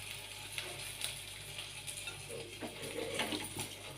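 Hot oil heated for deep frying sizzles quietly and steadily, with a soft hiss and a low hum, plus occasional faint clicks and light taps close by.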